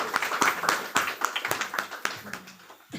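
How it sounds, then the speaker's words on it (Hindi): Audience at a spiritual discourse in Delhi clapping together: a dense run of sharp, fairly close hand claps, loud at first and thinning toward the end, with faint murmuring underneath. "एक बार ताली बजा दीजिए आप।"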